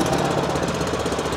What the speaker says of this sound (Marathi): फायनली आपला ट्रॅक्टर चालू झाला.